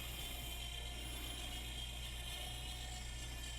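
Cardiohelp ECMO pump running at 3,000 RPM, a steady low mechanical hum with faint whirring tones, constant and unbroken at quiet level.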